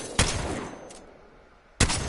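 A Mastiff shotgun fitted with a purple bolt and Dual Shell fires in a video game, two sharp loud blasts about one and a half seconds apart, each trailing off quickly, with a faint click between them.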